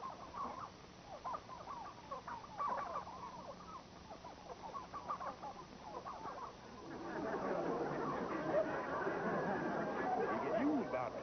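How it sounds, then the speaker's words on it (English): Turkeys gobble and cluck as a radio-show farm sound effect, a busy chattering flock heard moderately close, growing denser and louder in the second half while voices talk over it. "Nice crop of turkeys you got there."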